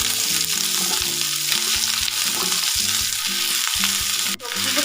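Potatoes, beans and spring onions sizzle and fry with prawns in a pan, a steady close crackle broken by the scrape and clatter of stirring, with no talking.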